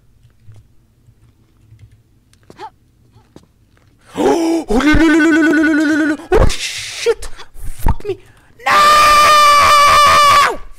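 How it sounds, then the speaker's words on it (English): Loud, drawn-out screams from a character in Tomb Raider IV: The Last Revelation in the Catacombs level, two long bursts with gasps and short sounds between them, following a quiet stretch. "This scream was a little bit too much."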